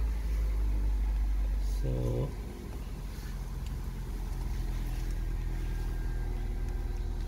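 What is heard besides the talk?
Toyota Corolla Verso 1.8 VVT-i engine running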